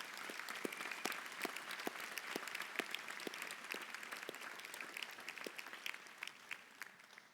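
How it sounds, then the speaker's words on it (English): Steady applause from a commencement audience honoring graduates, many hands clapping continuously at a moderate distance with no voices on top. "I'd like to ask all of us to think and applaud our grads for a second."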